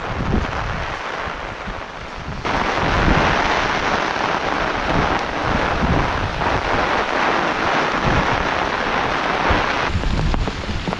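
Steady heavy rain pours on a morning in a rural Malvan setting, a continuous loud hiss that swells and thickens after a couple of seconds, with some wind buffeting the microphone and no talk.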